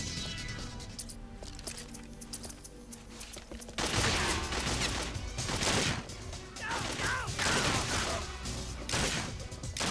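Weapon fire from the 007 Agent Under Fire video game bursts in dense, rapid shots over a busy mix of game noise, with a player's voice speaking over parts of the sequence.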